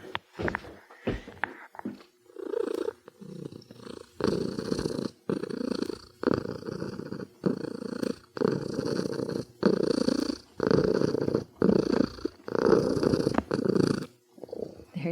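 Big Guy, a tomcat lying on a heated blanket, purrs close by in a steady rhythm of rumbling breaths, each cycle about a second long, continuing without pause.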